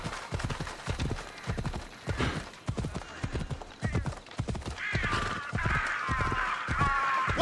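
A horse galloping under a rider in Assassin's Creed Odyssey, steady rhythmic hoofbeats thudding close by throughout, with brighter clattering sounds joining near the end.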